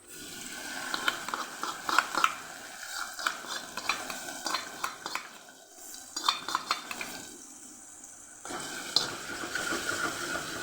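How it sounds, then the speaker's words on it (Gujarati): Curd tempering with garlic gets stirred quickly and continuously in a pan over low gas, with rhythmic scraping and clinking of a spoon over a soft sizzle, close and clear. "સતત આપણે ફટાફટ હલાવવાનું છે"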